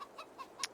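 Brief chicken clucks and chirps from the Farming Simulator 22 video game, a few faint short calls in quick succession.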